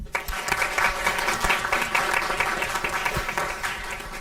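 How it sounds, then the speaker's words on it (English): An audience at a Twinsburg school board meeting claps in steady, dense applause that stays loud for several seconds, with no speech over it. "Can we give them one more round of applause?"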